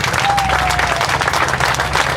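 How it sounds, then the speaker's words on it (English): Audience applause at an honor roll dedication ceremony in Brookline, Pittsburgh, a steady, dense wash of many hands clapping throughout, fairly loud and close, with no talk over it. "how about a round of applause for them"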